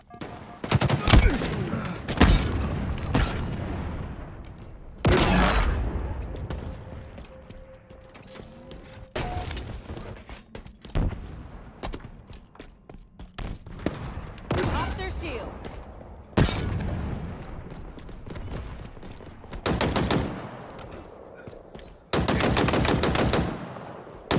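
Gunfire in the video game Halo Infinite while shooting a Spartan: repeated loud bursts of rapid automatic shots separated by short quieter gaps, close and sharp throughout.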